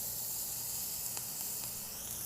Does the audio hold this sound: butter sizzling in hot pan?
yes